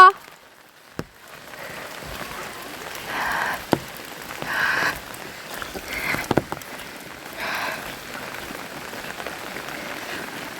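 Rain falls during the monsoon season in a steady, soft hiss across the whole stretch, with a few sharp nearby knocks and louder patches as voices speak over it.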